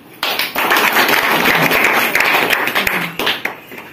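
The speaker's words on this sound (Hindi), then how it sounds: "ल जोरदार ताली।" An audience at an award ceremony for experienced farmers breaks into loud, dense clapping after a short pause, then the applause thins out and tails off near the end.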